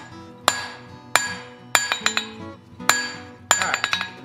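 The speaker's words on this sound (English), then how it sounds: "Now come in with my cross peen. I want to get behind and thin this out." Cross peen hammer blows on hot steel at a blacksmith's forge, drawing out a fireplace poker: sharp ringing metallic strikes, single and in quick clusters, close and loud with brief decaying rings between.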